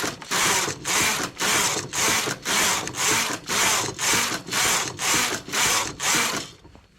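A knitting machine carriage sliding back and forth across 20 rows, a rhythmic series of about eleven even, rasping sweeps close up with short gaps between.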